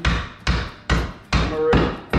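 An aluminium part for a reptile cage for monitor lizards is hammered on a soft surface, five loud, close, sharp metallic blows spaced roughly every half second, with no speech.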